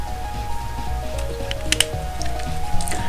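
A quick sip of water taken close to the microphone, a short wet slurp standing out against steady background game music and low hum.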